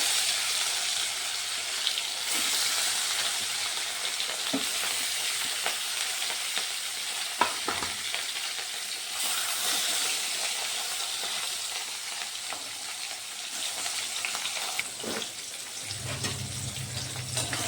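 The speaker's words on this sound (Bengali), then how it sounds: "তেল গরম হয়ে গেছে এখন আমি মাছগুলো দিয়ে দিতে পারবো" Rohu fish pieces spiced with chili powder crackle and sizzle in hot oil, making a steady close frying hiss with a few sharp pops and clatters and a short low rumble near the end.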